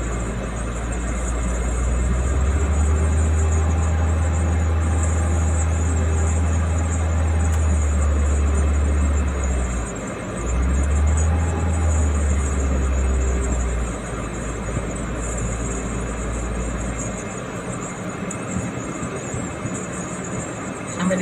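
A Daihatsu Taruna car engine revs high in a loud, steady drone that dips briefly midway and then holds again, fading somewhat toward the end.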